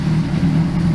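A 2006 Honda CBR600RR motorcycle engine running with a steady, loud low hum, heard close and alone for a brief moment.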